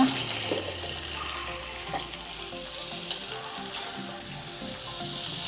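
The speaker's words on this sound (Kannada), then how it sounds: "ಇವಾಗ ಈರುಳ್ಳಿಯನ್ನು ಹಾಕೊಳ್ಳೋಣ. ಚೆನ್ನಾಗಿ ಹುರಿಯೋಣ." Chopped onions frying for clams sukka, a steady broadband sizzle in a hot pan with faint scraping and stirring, loud and continuous with no talk.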